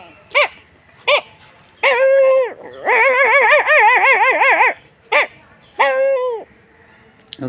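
A man imitates a dog with his voice, giving short yips and longer whining, wavering howls in an uneven series of close, loud calls separated by brief pauses.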